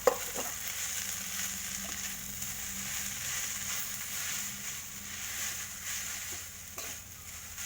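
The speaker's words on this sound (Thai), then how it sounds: "จากนั้นเราก็ใส่ข้าวลงไปเลยนะคะหนึ่งหม้อค่" Cooked rice stir-fried in a pan, a continuous close sizzle with occasional soft scrapes of a spatula, steady and without talk.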